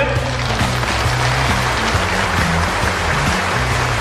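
A large crowd at a competition venue applauds steadily to welcome a competitor onto the stage. The clapping is a dense, continuous, loud wash with no pauses.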